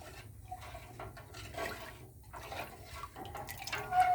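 A spoon stirs salted water in a cooking pot, making light swirling splashes and faint drips close by, uneven and quiet, with no talk.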